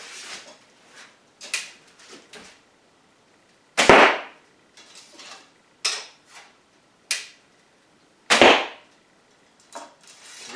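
Arrows shot from a 40-inch Osage orange short bow, several sharp, loud twangs and thumps at uneven intervals with softer clicks and taps between them, close by with no talking.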